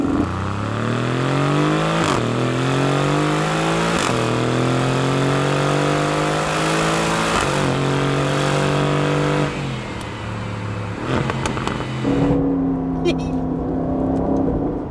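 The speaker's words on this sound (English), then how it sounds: "if I switch it back into Sport Plus track mode, then the exhaust goes up another notch" A 2018 Aston Martin Vantage V8 engine in Sport Plus mode revs repeatedly through rising gears, its deep exhaust roaring loud and close, then settles to a lower burble near the end.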